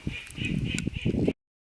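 Ducklings quack in a quick, lively cluster, several honking calls overlapping nearby before the sound cuts off.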